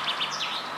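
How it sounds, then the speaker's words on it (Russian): Birds chirp and twitter steadily outdoors on the grounds of a sanatorium beside a forest, high repeated calls against a faint continuous background hiss, with no talking. "Тут тоже птицы поют."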